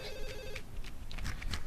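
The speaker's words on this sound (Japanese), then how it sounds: "もう電話がうるさいわ。" A telephone rings insistently inside a house in the horror video game Ju-On, a bright electronic ring repeating in short bursts amid ambient game noise.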